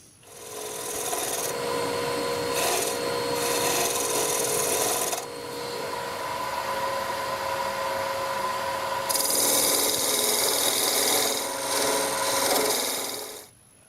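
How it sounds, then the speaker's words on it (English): A 3/8 crown bowl gouge with a swept-back grind cuts a goblet on a wood lathe, giving a steady loud scraping rasp throughout, with a brief drop near the middle and a brighter, harsher stretch toward the end. "Now I've moved on to the 3/8 crown bowl gouge."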